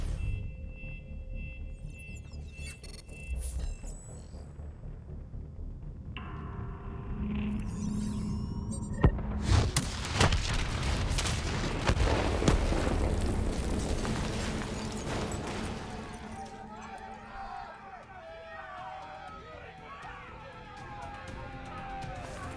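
A video game detonation erupts into a loud, sustained explosion with rumbling debris and crackling, following earlier electronic tones and mechanical sounds, then fading into scattered chirping noises.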